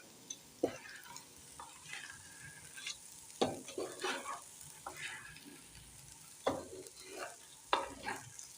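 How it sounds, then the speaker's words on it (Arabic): Rice being stirred and sautéed in a pan while making Alexandrian koshari, with soft continuous sizzling and a few sharp scraping stir strokes at intervals. "أنا بشوح في الرز"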